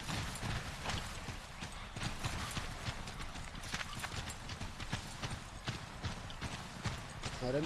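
Horse hooves clip-clop in a steady, fairly quick rhythm in Assassin's Creed 3, sharp repeated strikes over a low rumble of game ambience that keep going throughout.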